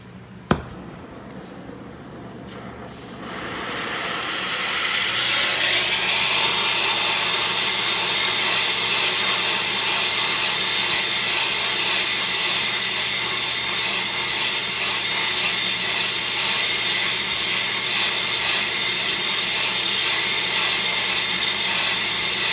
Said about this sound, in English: But we got the torch. We'll just heat her up a little bit.